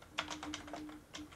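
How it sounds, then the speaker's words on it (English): Computer keyboard keys are pressed in a quick, quiet series of soft clicks close by, about half a dozen taps spread over a second. "you can select each one and press the delete key"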